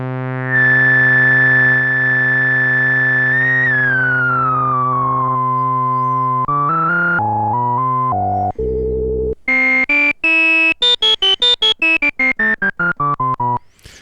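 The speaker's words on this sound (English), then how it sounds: "the sine wave of the self-oscillation of the resonance is in tune with the notes being generated by the keyboard" A Dreadbox Medusa synthesizer filter with resonance turned fully up self-oscillates as a pure sine tone, loud and close, first a long held pitch gliding downward, then a run of stepped notes and short rapid staccato pitches at the end.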